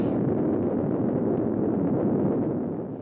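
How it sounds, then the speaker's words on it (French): A nuclear explosion from the 1961 film The Beast of Yucca Flats, a sustained, heavy low rumbling roar that stays loud and dense, then fades slightly at the end. "notre cher Thor se sauve dans le désert où il se fait pogner par une explosion nucléaire"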